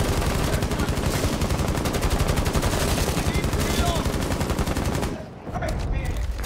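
A light machine gun fires in a long, continuous, rapid automatic burst in a video game, loud and close, before cutting off near the end as a voice speaks briefly.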